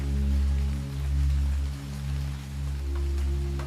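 Steady rain patters on a surface alongside a low, rhythmic bubbling hum, a continuous close background that swells and eases in slow waves.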